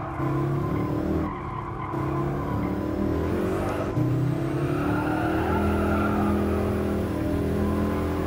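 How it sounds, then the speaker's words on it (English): A car in Gran Turismo Sport spinning its wheels in fourth gear, with a continuous tire squeal and skid layered over a steady engine drone, loud and sustained throughout. "it's like, wheel spin in 4th gear? Come on."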